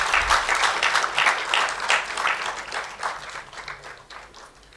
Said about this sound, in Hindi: प्लीज़ तालियां बजाइए अपने दोस्तों के लिए.